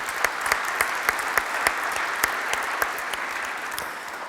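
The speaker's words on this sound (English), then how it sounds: "could we have a small round of applause for the beautiful Minna and the beautiful Harry?" Conference audience at a manufacturing event applauds organisers, a steady dense wash of clapping with a few sharp nearby claps standing out, continuous throughout.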